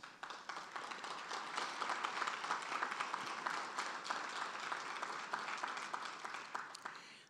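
Applause at a park summit's opening remarks, a crowd clapping in a dense, steady burst that swells after the first second and carries on evenly.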